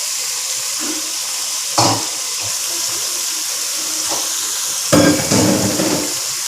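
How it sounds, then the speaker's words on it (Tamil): Water pours steadily into a pan of spiced stingray fish curry masala, a continuous close hissing splash with a few louder sloshes and clinks. "தண்ணி நான் ஊற்றுறேன்."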